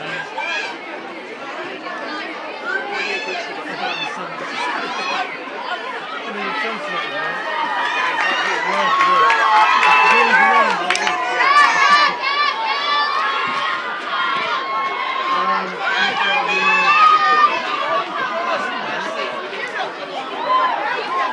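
A large crowd of children at a school sports day relay shouts, chatters and cheers continuously, the noise swelling louder partway through, with many overlapping voices close by and further off.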